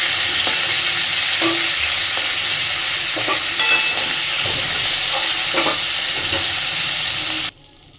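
Cauliflower and potato pieces sizzling in hot oil in a pan, a steady close frying hiss with occasional stirring scrapes, ending abruptly.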